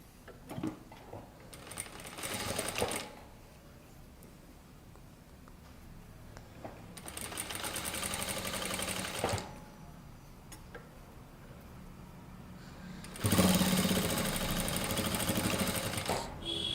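A sewing machine stitches the shoulders of a kurta in three loud bursts of fast, steady mechanical whirring, separated by quieter pauses.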